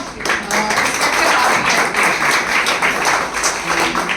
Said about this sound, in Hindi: मैं बहुत जोरदार तालियों से आप सभी की ओर से स्वागत करूंगी